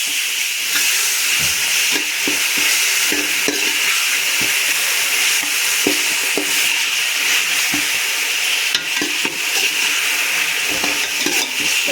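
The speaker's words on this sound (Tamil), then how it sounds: "இஞ்சி பூண்டு பேஸ்ட்டு ஒரு நல்லா மிக்ஸ் பண்ணலாம்." Ginger-garlic paste sizzles and fries in an oiled pan, a steady loud hiss broken by frequent scraping clicks of a spoon stirring against the metal, with no voices.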